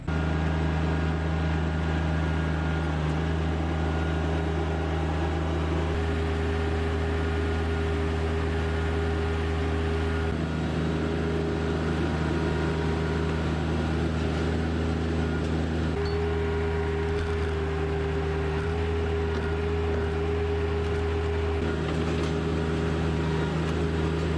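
A small Kubota RK25 tractor engine drones steadily while moving a large felled tree, its constant mechanical hum close and unbroken for the whole stretch, with no voices.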